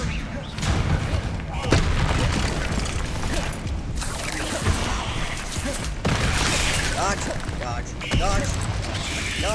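Incendio and Confringo spells cast in Hogwarts Legacy bring loud bursts and fiery blasts in quick succession, with crackling impacts and a dense combat roar running throughout.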